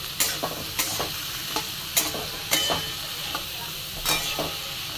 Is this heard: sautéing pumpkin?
yes